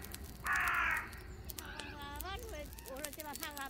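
Crows cawing in several hoarse calls, one loud near call early and then fainter caws scattered beneath a narrator speaking over them.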